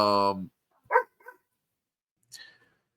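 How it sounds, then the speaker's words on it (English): A dog barks a few times in the background, sharp isolated yelps spaced across the moment, with a voice heard briefly at the start and long stretches of near silence between barks. "I know you guys might have heard him barking in the background a little bit."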